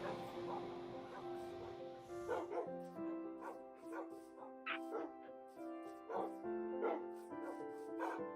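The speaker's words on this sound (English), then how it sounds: "I got the next batch of dogs back home." Minecraft wolves give a run of short in-game barks and yips at irregular intervals, heard over steady background music.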